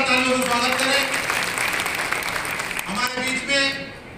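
An audience at a BJP workers' conference during the 2024 Lok Sabha election campaign in Biaora, Rajgarh, applauds in a dense, sustained burst while a voice talks over the clapping.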